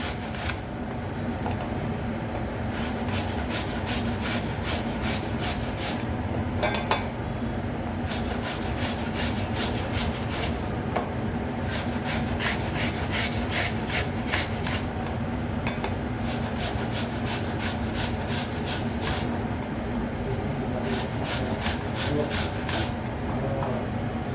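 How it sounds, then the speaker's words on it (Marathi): Food is shredded on a coarse grater into thick strands for a sharbat, producing steady rhythmic rasping strokes close up over a constant low background hum, with no talking. "याला किसून घेते. आपल्याला जाड किसणीने करायचे आहे."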